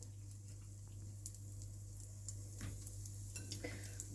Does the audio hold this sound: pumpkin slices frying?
yes